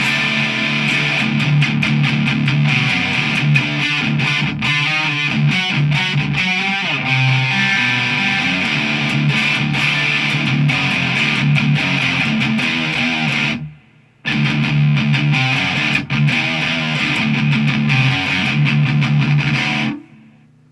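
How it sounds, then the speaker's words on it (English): Heavily overdriven electric guitar played through an amp with the gain cranked to about four o'clock, loud and continuous with dense sustained chords, a brief drop to silence near the middle before the playing resumes, no talking. "I'm just turning the gain up to about 4 o'clock"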